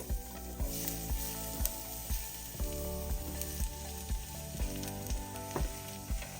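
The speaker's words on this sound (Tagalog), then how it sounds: "Mag-start tayo gisa ng ating garlic." Garlic sautéing in coconut oil, a continuous bright sizzle heard alongside a steady rhythmic musical beat, with no speech.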